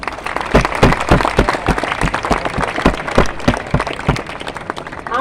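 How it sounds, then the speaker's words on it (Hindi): Students at a school assembly break into loud, sustained applause, a dense crowd of hands clapping close and strong with no pause throughout. "अपने लिए एक बार लास्ट जोरदार तालियां।"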